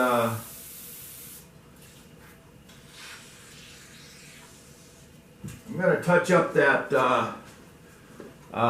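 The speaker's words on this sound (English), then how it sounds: "I'm going to take a rag and some brake clean, and I'm just going to touch up" Brake cleaner sprayed onto a rag for wiping an engine's head gasket surface, a continuous hissing spray burst at the start, then quieter rubbing, followed by someone talking nearby.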